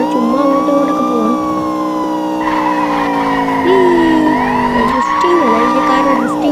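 A wailing police siren rises and falls in a video game, layered over a steady car engine drone and tyre noise from drifting, loud and continuous throughout.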